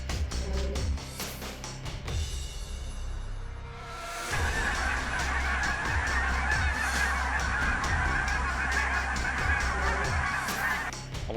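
A large flock of lesser snow geese honks continuously during a fall hunt, a dense, loud chorus of overlapping calls that swells after a brief lull and stays thick to the end.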